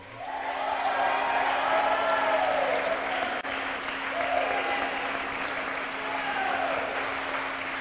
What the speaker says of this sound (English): a round of applause, please, for the wind beneath their wings